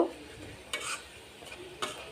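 Onion and garlic browning in a pan are stirred briefly, giving two soft scraping strokes over a faint, low sizzle.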